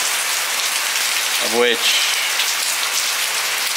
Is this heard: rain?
yes